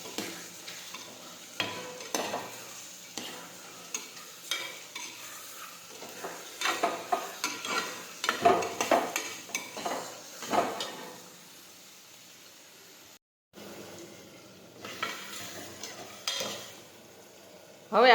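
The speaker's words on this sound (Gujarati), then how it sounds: "હવે મિક્સ કરી દઈશું બધા મસાલા." Spices are stirred into ridge gourd sabji frying in a cooker, with a spoon scraping and clinking against the metal pot in irregular bursts over a faint sizzle, then a short pause before more stirring.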